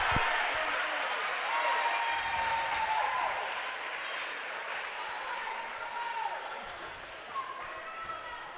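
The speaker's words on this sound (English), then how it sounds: "This Danville crowd is erupting." A home crowd at a girls' high school basketball district semifinal cheers and applauds loudly in a gym, a broad sustained roar with sneaker squeaks and a ball bounce underneath.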